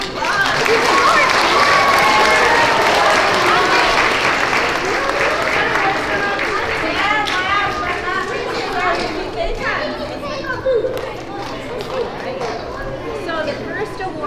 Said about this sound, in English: let's give kindergarten one more round of applause.